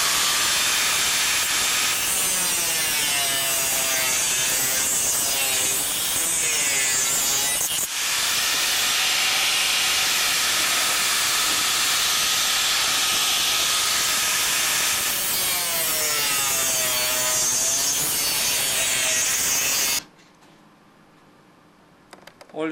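A high-pitched 4.5-inch angle grinder with a 1 mm cutting disc whines steadily as it cuts through material for about twenty seconds, then stops abruptly, leaving near silence.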